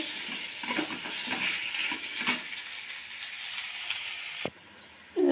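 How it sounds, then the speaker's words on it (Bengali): Mango pieces frying in a pan with spices for mango chutney, a steady crackling sizzle with scattered stirring scrapes, ending in a sudden utensil knock before the sound drops away. "আমটা ভালো করে ভেজে নেব"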